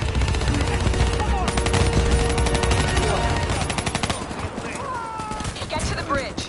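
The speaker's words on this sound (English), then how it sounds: "Give me some cover fire." Sustained automatic gunfire from video game cover fire, dense rapid bursts of shots overlapping for several seconds, loud and continuous before easing into scattered game sounds.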